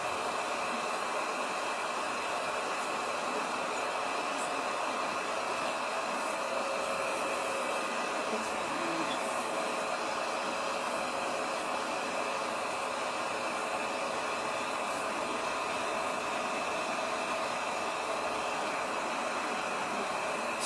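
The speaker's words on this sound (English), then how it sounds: "We can let out the heat sometimes" A hair dryer blows steadily for about twenty seconds while natural hair is being styled, a constant broadband whoosh with no pauses and no talk over it.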